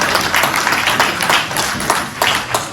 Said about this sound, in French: Alors je vous applaudis.